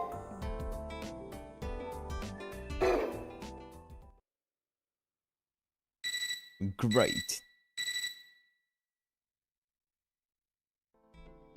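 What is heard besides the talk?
alarm-clock-like ringing in video game Fate/Extra CCC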